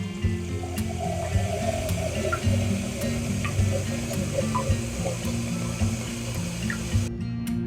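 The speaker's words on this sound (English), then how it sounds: "Now I'm going to get me some water boiling" Water runs steadily from a tap into a pot for boiling, a continuous splashing flow with faint clinks, and nothing else stands out.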